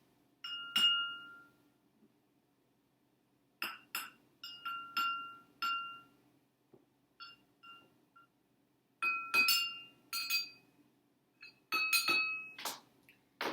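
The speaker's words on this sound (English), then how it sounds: "what we're going to do is tap our wooden object against the" Clusters of bright clinks as a wooden ruler taps glasses of water several times in quick succession with pauses between, each note slightly different in pitch, fairly quiet and close.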